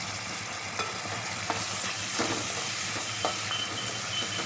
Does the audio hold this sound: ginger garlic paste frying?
yes